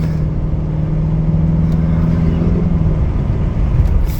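A 2011 Mercedes C250 CDI coupe diesel engine runs with the accelerator held flat, giving a loud, steady close rumble and whir that stays constant throughout.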